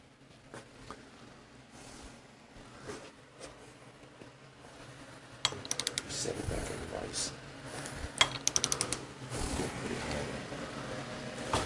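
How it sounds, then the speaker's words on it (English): A long-handled half-inch drive ratchet clicks in quick rapid runs while tightening a sealed wheel bearing into a late-model Harley-Davidson wheel, with metallic workshop clatter around it and someone talking nearby. "I'm going to use a longer handled ratchet and a half inch drive instead of my 3/8."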